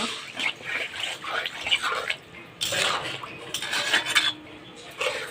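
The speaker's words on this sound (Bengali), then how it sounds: "মশলাটা কষানো হয়ে গেছে এবার জল দেব ঝোলের জন্য বেশি জল দেব" Water is poured into a cooked-down curry spice paste in a pan for a fish curry with potato and eggplant. It gives faint hissing, splashing bursts with light clinks of cookware.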